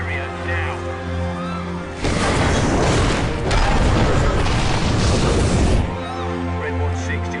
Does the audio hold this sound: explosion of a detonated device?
yes